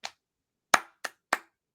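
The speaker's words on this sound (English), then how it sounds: "give him a clap." Four sharp hand claps ring out close and dry, one alone followed by a quick group of three, with silence around them.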